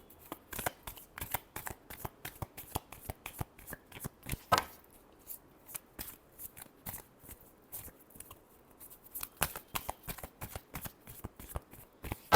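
A deck of cards is shuffled by hand for a tarot reading, with rapid crisp riffles and snaps repeating in quick bursts, close and alone with no voices.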